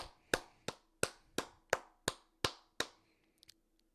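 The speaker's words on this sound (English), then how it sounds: "Can we get a round of applause for the first smart contestants of the day?" One person claps slowly and deliberately, about eight sharp, evenly spaced, close-up claps, followed by a couple of faint taps and then quiet.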